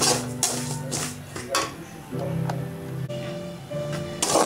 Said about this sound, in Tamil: நல்லா வந்து வாசனை வர வரைக்கும் நம்ம வறுத்துக்கலாம்